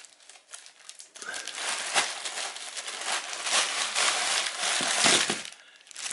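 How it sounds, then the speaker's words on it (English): Crinkly plastic rustling and crumpling as a bag of backpacking trail snacks is shaken out, loud irregular bursts after a quieter start, with items shifting inside. "so what's in this plastic bag here? Yeah, let's empty it out."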